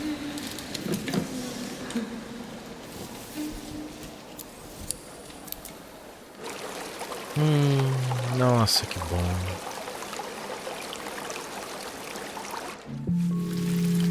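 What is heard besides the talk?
flowing water in the video game Jusant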